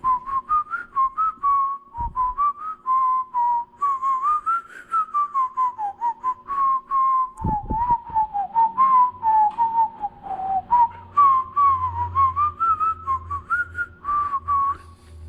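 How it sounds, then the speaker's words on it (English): A person whistles a wavering tune for about fifteen seconds while working on a Fuso adventure truck build, with a couple of dull knocks and a low rumble underneath. "I could probably whistle that tune a few times here in the amount of time it takes"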